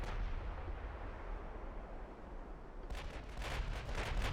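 Heavy 19-inch battleship guns fire in a naval warfare strategy game, deep booming rumbles rolling continuously with a sharper burst of impacts near the end, loud and without talk.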